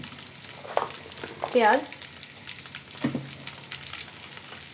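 Onions sizzling in hot oil in a pan while making chicken sizzling, a steady frying hiss with brief stirring clatter, and a voice speaks a word partway through.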